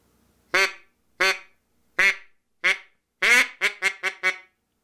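Plastic duck call blown with clipped voot-like notes: four spaced quacks followed by a faster run of five, loud and close with no talk.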